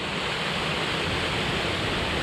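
Small mountain waterfall in Torridon, a steady broadband rush of falling water that stays constant and close throughout, with no voices.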